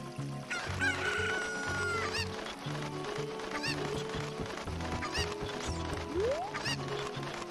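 Poultry sounds from the Ocarina of Time video game, clucking and crowing calls over steady game music and effects, continuous and moderately loud throughout.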